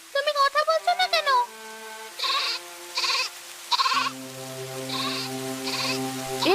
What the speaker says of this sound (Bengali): ছাগলের ঘর থেকে কান্নার শব্দ আসছে কেন?